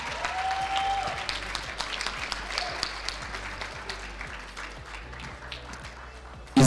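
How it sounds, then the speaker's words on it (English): An indoor audience at a national ICT summit award ceremony claps in sustained, dense applause that slowly tapers, and a voice speaks right at the end. "Can we please give a round of applause to Otto Me?"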